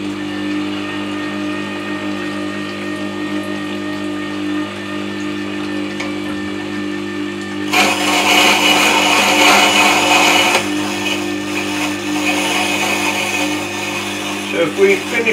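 A WG200 8-inch wet stone sharpening system hums steadily while its stone is dressed, then a harsher grinding hiss rises for a few seconds as the dressing tool is fed across, with someone talking throughout.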